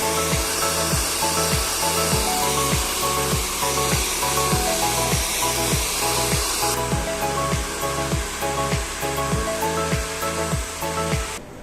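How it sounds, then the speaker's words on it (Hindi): A hair dryer blows steadily on hair during a permanent hair straightening treatment, a constant loud airy whoosh with a faint repeating tick, its hiss turning slightly duller partway through. "अब ड्रायर से अब अच्छे से इनका हेयर को पहले ड्राई कर"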